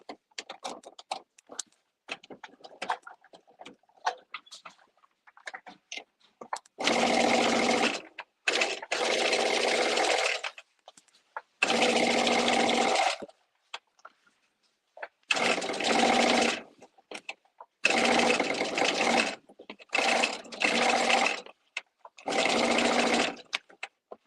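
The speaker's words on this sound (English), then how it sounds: "So now I'm going to top stitch them down." A domestic sewing machine top stitching garment seams runs in several loud, steady bursts of a few seconds each, separated by quiet pauses with light clicks and handling noises.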